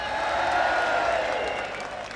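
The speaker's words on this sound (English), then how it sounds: "Give her a cheer!" A rally crowd at a Leave Means Leave Brexit event cheering and applauding, a dense sustained roar of clapping and voices filling the hall, steady throughout.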